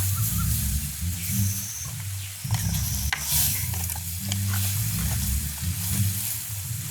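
Curry leaves sizzle in hot oil in a village kitchen pot, a loud continuous frying hiss with low rumbling bubbling and a few stirring scrapes, steady throughout.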